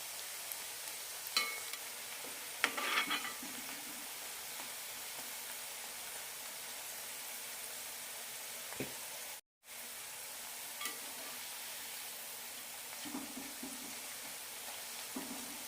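Chana dal fritters (pakoda) deep-fry softly in hot oil over a medium-low flame, a faint steady crackling hiss with occasional stirring clinks and one brief gap.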